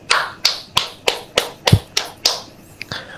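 Sparse, distinct claps at a religious talk, about nine sharp separate hand claps in a slow, uneven rhythm, fairly close and dry, rather than full crowd applause.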